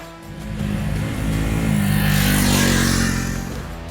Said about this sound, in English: this motorcycle accelerates pretty quickly, and it has its own strong punch, but the punch is not jerky